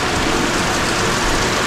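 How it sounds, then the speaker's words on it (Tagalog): Heavy rain pours down steadily with gusting wind, a dense, continuous roar that stays loud and close throughout, with no voices over it. "tuloy-tuloy pa rin po yung pagbuhos ng malakas na ulan na may kasamang hangin"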